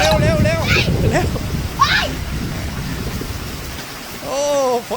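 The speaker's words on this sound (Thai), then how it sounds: "ฝนตกแล้วเร็วเร็ว" Heavy rain pours down during a storm in a steady, broad hiss, joined by excited voices calling out near the microphone at the start and again near the end.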